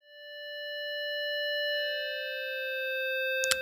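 Omnisphere synth overtones patch with the filter switched off, a bright steady sustained tone rich in harmonics that holds evenly for a few seconds before a brief click at the end.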